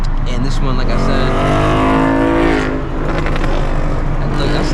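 A manual C7 Corvette's engine runs loud and close, climbing through a rising rev and then easing back, with a voice talking over it.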